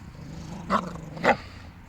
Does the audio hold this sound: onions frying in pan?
no